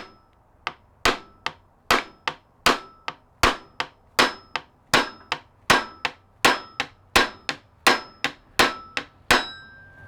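Sharp metallic hammer blows on a drift against the cam gear of a VW 1.9 TDI ALH turbo diesel engine, about twenty evenly spaced ringing strikes, close and loud with no talking.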